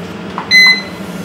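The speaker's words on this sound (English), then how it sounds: "We'll see the light beep like 3 times." A kitchen blender gives a single short electronic beep after its on-off button is pressed, a clear high tone standing out over a low background hum.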